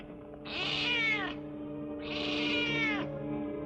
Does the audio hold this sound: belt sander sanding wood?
no